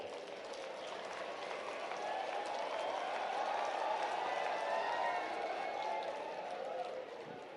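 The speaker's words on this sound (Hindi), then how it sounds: "बीएमएस वाले भी जोरदार ताली आपके लिए भी बजाओ" An audience at a health services conference in Bhopal applauds BAMS students, a dense sustained wash of clapping that swells in the middle and fades slightly toward the end, with voices mixed in.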